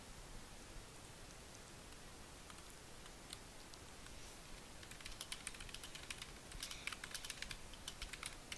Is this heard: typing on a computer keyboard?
yes